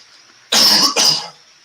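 A single loud double cough, close to the microphone, with two sharp bursts in quick succession and nothing else around it, from a person who says he has been sick.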